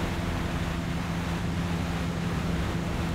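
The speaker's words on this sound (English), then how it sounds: "Go on a nice trip through the water." Water ambience in the video game Resident Evil 4 is a steady, dense wash of surf-like rushing, with a low droning hum underneath, constant and unbroken from start to finish.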